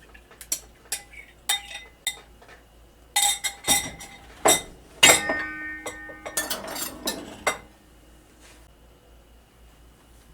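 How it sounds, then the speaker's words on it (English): Quiche filling stirred in a bowl and poured into a pie shell, giving a run of sharp clinks and taps of utensil on dish, with a denser cluster of knocks midway and then quiet. "Now I'm going to stir that up and put it into my pie shell."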